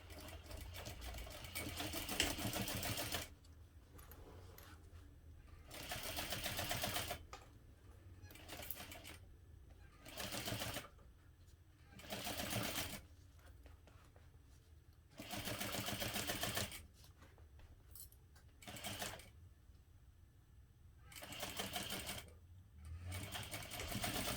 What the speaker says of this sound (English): we will sew this at a 1/2 inch seam allowance